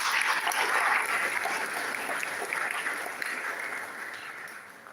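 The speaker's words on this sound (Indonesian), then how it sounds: "Beri aplaus kalau begitu" Church congregation applauding during a Christmas service, a dense burst of clapping that starts strong and slowly tapers off over a few seconds, with no talk.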